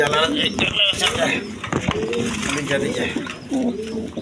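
A matched male and female pair of cream-barred exhibition pigeons coo with low rolling calls beneath someone talking close by, amid general background bustle.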